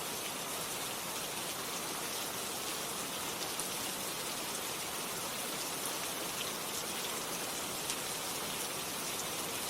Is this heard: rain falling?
yes